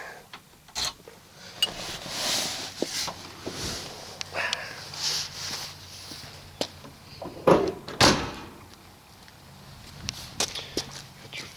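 The trunk lid of a 1963 Oldsmobile Dynamic 88 Holiday sedan is opened, giving close latch clicks, metallic thumps and a sharp clunk partway through, with light rustling and handling noise between them.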